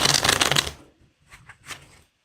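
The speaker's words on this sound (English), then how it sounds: "I'm going to give it 3 of these to try and shuffle them up a bit." A deck of Phase 10 playing cards is riffle-shuffled in one loud, close burst, followed by a few softer card taps and slides.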